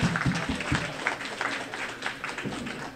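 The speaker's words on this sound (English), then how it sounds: "let's give him a round of applause, please." A banquet audience gives a round of applause for a man honoured for his prayer, with sparse, loose clapping that tapers off and a few distinct claps standing out.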